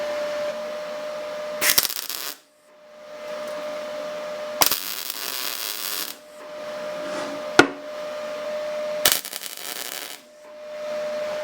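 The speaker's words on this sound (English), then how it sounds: "now I'm just going to run a weld across here and across the other side" MIG welding with a 5% argon and CO2 gas mix while fitting a universal mudguard to a Honda CG125: steady crackling, sizzling arc runs broken by short pauses, with sharp loud bursts between beads.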